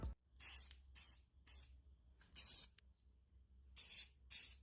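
Short hissing bursts of an aerosol spray paint can, five or six quick sprays separated by brief pauses, close and crisp.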